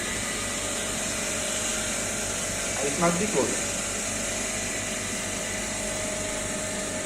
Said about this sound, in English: Roughing means sucking air from this chamber, and it will be in vacuum after roughing.